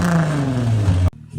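A Nissan G35 fitted with a Manzo exhaust revs loudly up close, its engine note rising and falling steadily before cutting off abruptly, then a brief low idle resumes.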